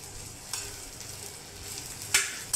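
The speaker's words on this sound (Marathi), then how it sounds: "आता हे असं चांगलं भाजून घ्यायचं, चॉकलेटी कलर होईपर्यंत भाजून घ्यायचं।" Spiny okra dry-roasts in a pan toward a chocolate-brown color, a low crackle under a few sharp scrapes of a spatula against the metal.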